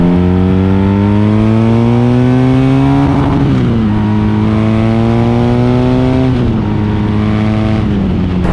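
A 2018 BMW R nineT motorcycle engine screams close by, its pitch climbing high, dipping sharply twice and climbing again as it is revved hard to the rev limiter around 8000 rpm.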